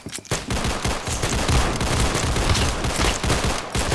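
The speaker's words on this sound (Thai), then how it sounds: "มันมันยิงให้กูอัตโนมัติเนี่ย" Rapid automatic gunfire from a weapon in a Roblox game, a dense continuous burst of shots lasting several seconds, loud and close.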